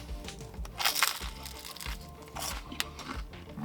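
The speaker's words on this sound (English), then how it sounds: "That crust is really crunchy." Bites into a crunchy Detroit-style sourdough pizza crust, producing several close, crisp crunching bursts spread through the chew, with no voices.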